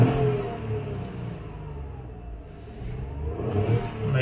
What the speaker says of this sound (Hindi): मैं रेस कर रहा हूँ अभी